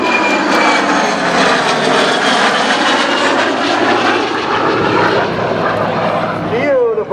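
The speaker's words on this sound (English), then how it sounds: "Watch high overhead as our Legacy Flight approaches." Legacy Flight aircraft passing high overhead at the 2012 MCAS Cherry Point airshow, a loud, steady engine roar that holds throughout and swells slightly before fading at the end, with a voice over it.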